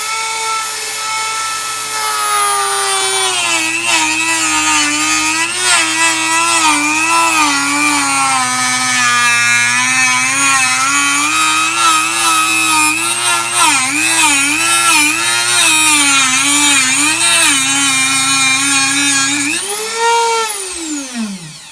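Dremel rotary tool rough-trimming plastic Shadow Trooper armor pieces, a loud, steady high-pitched whine running continuously for about twenty seconds with slight pitch wobbles as it cuts, then spinning down at the end.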